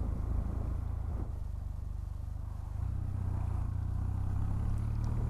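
A Kawasaki W800 street motorcycle pulls away in fifth gear with a low, chugging engine note that steadies and grows slightly fuller midway, recorded close while riding.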